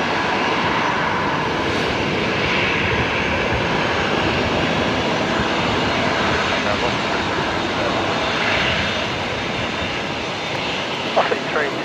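Jet airliners at Brisbane Airport fill the air with a continuous loud engine roar and broad rumble while aircraft taxi, steady throughout with no break.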